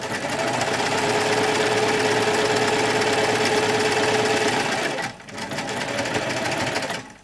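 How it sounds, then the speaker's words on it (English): A sewing machine stitches pinwheel quilt block pieces together, running in a steady, continuous mechanical whir that holds loud and close for about five seconds, dips briefly, then resumes before stopping. "take it to the sewing machine"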